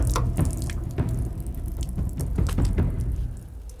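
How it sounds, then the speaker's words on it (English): Water drains and splashes from the wing fuel sump of an old aircraft left abandoned for 20 years, an irregular trickle with close spattery drips, no talk over it. "we got some water coming out of that one"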